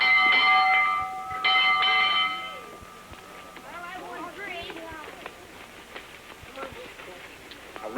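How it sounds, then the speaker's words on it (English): An old school bell in a 1930 film rings several clanging strokes in quick succession at the start, then fades as children's voices and chatter take over. "Oh, there goes that old bell."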